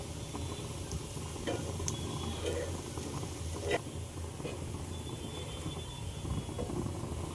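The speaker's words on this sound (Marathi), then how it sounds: "आता आपण कोथिंबीर वडी पलटी मारून घेऊया" Kothimbir vadi, coriander fritters, being flipped in a pan and shallow-fried in oil, giving a steady close sizzle with a few soft scraping and clicking touches from the turning.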